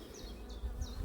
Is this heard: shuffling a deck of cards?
no